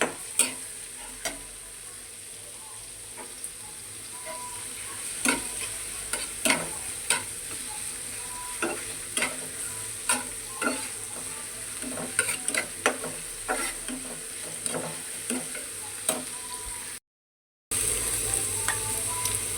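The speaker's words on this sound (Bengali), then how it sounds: "আর এটা আমি কিছুক্ষণ পেঁয়াজ আর কাঁচামরিচ কিছুক্ষণ ভেজে নিব।" Onions and green chilies fry in soybean oil in a pan, a steady close sizzle broken by regular sharp spatula scrapes and taps, then a brief silent gap before the hiss returns louder.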